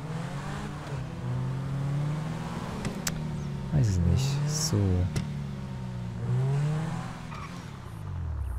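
A sports car, the Infernus, drives in Grand Theft Auto V, its engine humming and rising and falling in pitch with two sharper revving surges midway, while someone talks over it.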